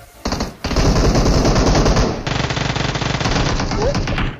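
Uzi fire in a mobile shooter video game, long loud sustained bursts of rapid automatic shots with a brief break and a slight change in tone partway through, close and dominant.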